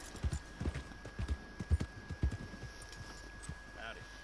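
A horse's hooves clip-clop in an irregular walking rhythm in Red Dead Redemption 2, with a dozen or so distinct close hoof strikes and faint voices in the background.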